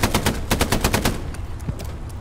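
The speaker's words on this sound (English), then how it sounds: "That's an MG." An MG firing in the Hell Let Loose video game during British tank combat, a rapid burst of loud, evenly spaced shots for about a second, followed by scattered single reports and rumbling battle noise.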